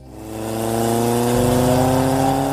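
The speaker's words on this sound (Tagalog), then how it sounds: "Pero piniga ko agad ang throttle." A motorcycle engine revs up as the throttle is twisted hard, rising in pitch and holding a loud, steady, close roar for a couple of seconds.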